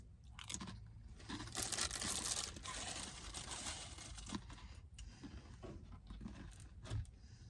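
Saltine crackers crunch steadily through close, continuous chewing, with crisp crinkling of the plastic pack and small bites layered over the munching.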